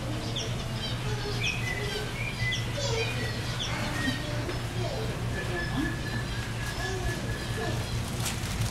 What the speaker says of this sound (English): There's little finches hanging around all over the place.